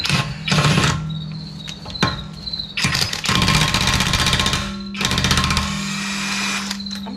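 An impact wrench spins off 21mm lug nuts on a Lexus RX 350 F-sport, loud rattling bursts of hammering whir separated by brief pauses, close up in a garage.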